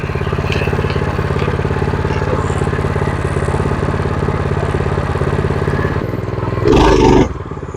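A minibike fitted with a Predator 212 engine runs with a loud, steady single-cylinder drone, close by, then revs up sharply near the end before dropping back.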